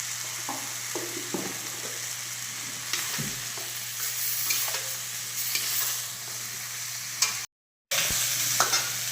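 Salt, chilli powder and turmeric powder sizzle with cauliflower in a frying pan, with steady frying hiss and repeated stirring scrapes over a low hum, then a brief dropout near the end.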